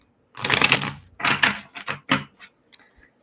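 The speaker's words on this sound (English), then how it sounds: "Let me shuffle the cards." Oracle cards being shuffled by hand, several quick papery riffles and slaps in bursts, close and fairly loud, with no talk over them.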